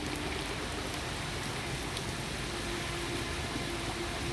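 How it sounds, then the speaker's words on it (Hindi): Heavy rain pours steadily outdoors in Etawah, a dense, even hiss of drops hitting surfaces with no pauses, loud and close throughout. "आज बहुत तेज़ बारिश हो रही है"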